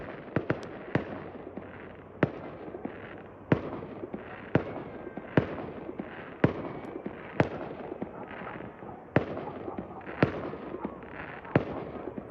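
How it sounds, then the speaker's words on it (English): Fireworks bursting on New Year's Eve near a house, a dozen sharp loud bangs at irregular intervals over continuous crackle and fizz, with scattered exclamations from people in the background. "And there's fireworks over here too."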